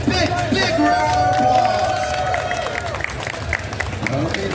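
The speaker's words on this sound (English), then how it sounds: "give this person a big, big, big round of" An audience at Beyblade X exhibition matches at Anime Expo breaks into loud, sustained applause with scattered cheers, while someone speaks over the clapping.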